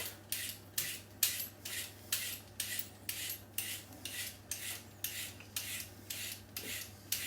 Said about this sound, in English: With the carrot, I'm just going to peel the carrot.